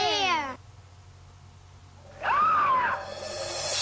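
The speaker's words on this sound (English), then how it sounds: "I guess that sound must have been our clue." A screaming sound, presented as a clue in a drawing game: a harmonic cry near the start, a short high wail after a near-silent pause, then a louder sustained cry trailing off at the end, with no speech.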